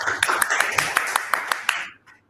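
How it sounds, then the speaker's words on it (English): A roomful of people clapping at an afternoon stage session, with crisp individual claps standing out above the crowd, loud and even for about two seconds before it stops abruptly. "Ladies and gentlemen, let's once give a round of applause."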